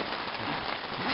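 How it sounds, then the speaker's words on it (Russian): Rain falling outdoors during a thunderstorm on a trip with a GAZ 3308 truck near the Tom river: a dense, even hiss of drops hitting surfaces, steady and close with no voices. "Да и дождь такой начался"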